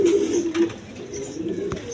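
Pigeons coo inside a cage, a steady low warbling burr that swells and fades over a couple of seconds, close and clear with faint background noise.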